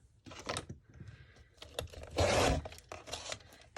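Scissors snip through paper while a crafter trims a piece off a shabby cottage tea-time journal in a full-size binder; close, crisp cutting and rustling, with one louder, longer snip near the middle and no talking.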